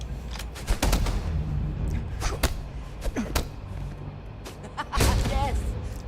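Sharp gunshots ring out in the sci-fi game Starfield, a few scattered bursts with a heavier blast near the end, mixed with game sounds and bits of voices.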